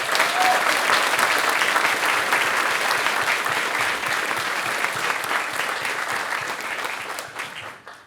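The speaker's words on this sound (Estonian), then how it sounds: "See vääriks ka ühte suurt aplausi." An audience at a school graduation ceremony for ninth-grade classes applauds in a long, even burst of clapping that fades out at the end.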